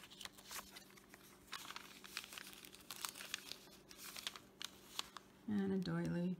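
Dry paper crinkles and soft rustles come from handling a glassine envelope holding paper ephemera for a shabby junk journal, light and close with small crisp bursts, and a voice speaks briefly near the end.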